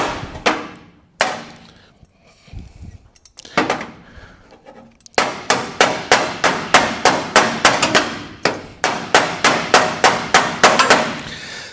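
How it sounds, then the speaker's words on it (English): Sharp metallic chipping hammer strikes on a 1937 Lincoln Zephyr's metal, a few scattered blows at first, then a fast steady run of loud, ringing hits. "what I found was this chipping hammer, slag hammer"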